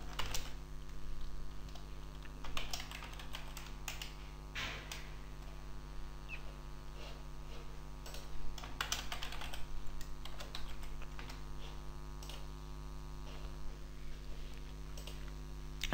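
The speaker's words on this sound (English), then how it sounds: "So I'll type the name as tenon." Steady run of computer keyboard typing with clustered keystroke bursts and occasional mouse clicks over a low constant hum, close and fairly quiet, during structural steel modelling software work.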